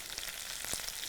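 Chopped onions fry with roasted peanuts in a pan, a faint, steady sizzle with a couple of soft crackles over about a second.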